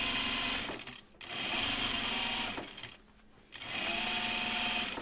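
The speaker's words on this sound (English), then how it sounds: "I'm top stitching it, pushing the seam allowance towards the lining" A sewing machine top-stitches an anorak seam, pressing the seam allowance toward the lining, running in three close, loud bursts separated by brief stops.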